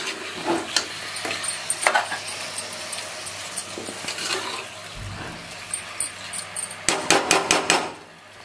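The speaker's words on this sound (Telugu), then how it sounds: "ఈ మటన్ కూడా ఒక 5 నిమిషాలు ఇలా మగ్గాలండి" Mutton pieces cooking in ginger-garlic paste in a pan for cashew mutton masala, a steady close sizzle broken by a run of sharp knocks and scrapes of a spoon against the pan, the clatter thickening toward the end.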